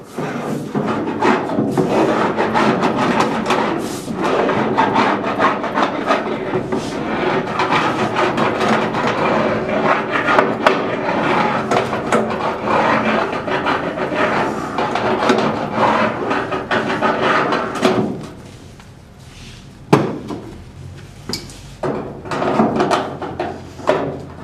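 A Wuko hand seamer set to a one-inch depth is run along zinc sheet to fold an edge for a countertop, giving a dense run of clicking, ratcheting metal rasps that stop for a moment near the end before a few last clanks.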